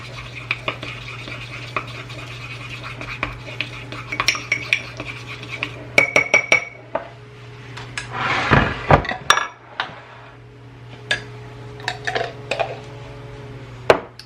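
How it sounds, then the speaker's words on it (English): A utensil stirring a garlic sauce mixture in a dish at home, giving scattered scrapes and metallic clinks against the dish over a steady background hum, with a louder burst of scraping midway and sparse clinks later, no talking. "just a little bit more, and I'm gonna stir this all together"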